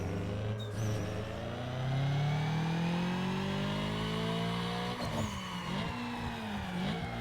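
Audi A3 Quattro 3.2L V6 in Need for Speed Underground 2 revving hard on a dyno, a loud continuous engine note climbing steadily in pitch, easing off, then rising again with a brief gear-change dip near the end.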